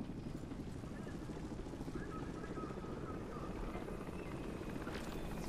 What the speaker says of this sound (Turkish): Helikopter getirdiler.